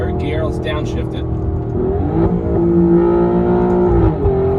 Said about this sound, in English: So we're in 3rd gear. Let's downshift it.